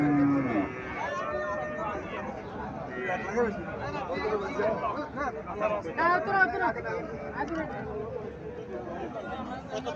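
A Sahiwal cow moos at a busy cattle market in Comilla, a low drawn-out call near the start that blends into steady crowd chatter and nearby conversation.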